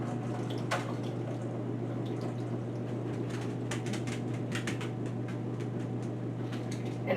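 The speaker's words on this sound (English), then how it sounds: "Now those are pretty clean, so we're gonna rinse that water off." Water is rinsed off pinto beans in a kitchen, a quiet continuous running trickle with scattered small splashes and drips over a low steady hum.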